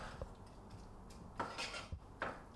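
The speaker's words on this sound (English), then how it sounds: "So give them a good stir" Vegetables frying in a pan over low heat are stirred with a utensil, giving a few quiet scraping clinks against the pan over a soft background hiss.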